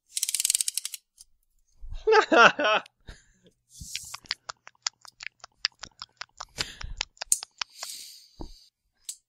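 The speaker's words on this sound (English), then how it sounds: "I'm playing with a tape measure." Metal tape measure pulled out and snapped back during a casual indoor conversation, giving rapid ratcheting clicks in irregular bursts, close and fairly loud, with a brief stretch of talk early on.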